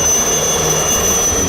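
Three helicopters pass low over a cadet passing-out parade, dropping flowers. The result is a loud, steady roar of rotors and turbine whine that fills the whole moment, with no voices.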